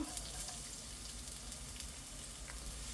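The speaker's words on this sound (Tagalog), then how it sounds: "Gisa ko lang ng bahagya." Garlic sautéing in oil in a pan, a soft, steady frying crackle with faint scattered pops, fairly quiet and continuous, with no speech.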